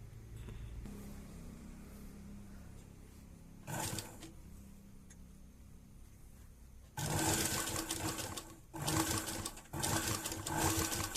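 Sewing machine stitching square fabric scraps onto a simple door mat. Faint background noise and a short burst come first, then loud rapid stitching runs in several close bursts near the end.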